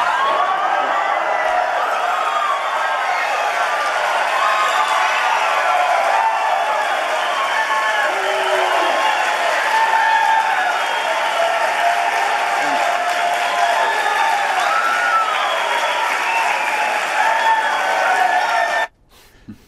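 Applause from a crowd at Speaker Boehner's resignation announcement keeps going steadily for about twenty seconds, a dense wash of clapping with scattered voices, then cuts off abruptly.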